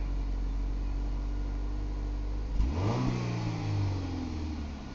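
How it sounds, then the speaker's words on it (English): A 1993 Ford Escort LX idles steadily, then its engine is revved once, the pitch sweeping up sharply and easing back down to idle, close and alone. "Rev it up a little bit."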